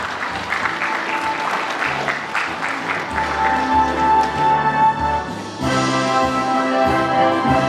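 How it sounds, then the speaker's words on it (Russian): An audience applauds at the closing ceremony of the 2009 Spassky–Kortchnoi chess match as Boris Spassky is invited onstage, dense clapping that settles into rhythmic unison claps, with music entering near the end. "Ваши аплодисменты, дорогие друзья."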